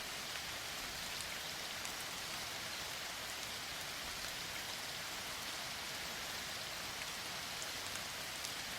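Steady rain falls without a break, a dense even hiss of drops on a surface, heard alone with no voices.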